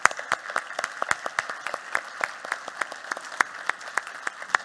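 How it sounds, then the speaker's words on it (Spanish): A small audience applauds a senator at a cybersecurity talk, sparse individual claps in an uneven rhythm, fairly close and distinct with no voices over them. "le pido un aplauso para él"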